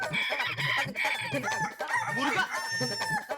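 A voice imitates a rooster's crowing as a playful punishment, giving a run of repeated clucking, crowing calls in quick bursts, close and fairly clear.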